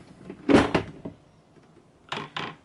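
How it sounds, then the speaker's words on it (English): Two plastic side clips on the box of an Evolution R11VAC-Li cordless wet and dry workshop vacuum snap open, in two close pairs of sharp clicks about a second and a half apart in a quiet room. "then we can open up the box with these 2 clips on the side."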